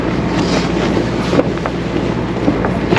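Steady wind roars across the microphone while a sailboat heads upwind into choppy water on Lake Erie, a constant loud rush with faint slaps and thumps and no talk.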